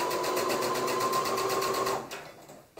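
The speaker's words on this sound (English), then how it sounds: "sew my other front and back together at the shoulders" A sewing machine stitches the front and back pieces of a garment together at the shoulders with a steady, loud, continuous hum for about two seconds, then slows and stops, with no talking.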